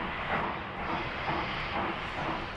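A steam train starting up, steady hissing and breathy puffing with soft rhythmic chuffs, moderately distant and continuous, no voices.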